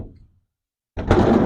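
A stubborn door at a camping spot opens or closes with a short thud, then a rough, scraping rattle after a moment of silence.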